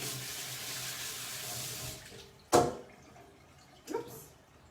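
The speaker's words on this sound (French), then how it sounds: "Donc là, je vais laver mon citron." Tap water runs steadily while a lemon is washed under it at a kitchen sink, then cuts off, followed by a couple of sharp knocks and splashes.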